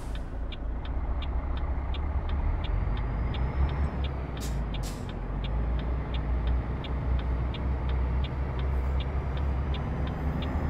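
Truck engine in American Truck Simulator revving steadily, a loud, continuous low drone that holds for the full stretch, with a regular ticking pulse above it and a couple of brief hissing bursts near the middle.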